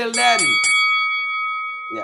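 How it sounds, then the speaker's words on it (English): A bell rings to close a broadcast show, one clear struck tone that lingers and slowly fades after a brief burst of voices at the start. "that's the last bell"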